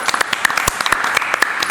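Audience applause greets the student council president and vice president in a school talk session, a short burst of brisk, crisp claps from a small group, close and fairly loud.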